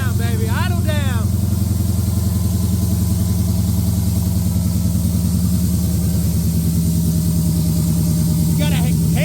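A Dodge Hellcat V8 idling close and loud, a deep, steady throbbing rumble that lasts throughout, with voices talking over it at the start and end.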